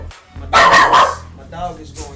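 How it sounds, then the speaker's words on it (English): A pet dog barks indoors in a few loud, close bursts, one long run of barking followed by shorter yips, while someone talks nearby. "my dog is going crazy"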